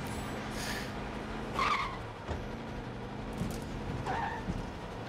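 In Far Cry 6, a car drives with a constant engine hum while its tires squeal in short skids, two of them standing out over the steady motor noise.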